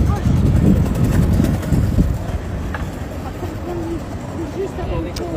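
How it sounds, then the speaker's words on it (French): Wind blows outdoors with a steady low rumbling buffet across the microphone, while a voice can be heard underneath. "Un peu de vent."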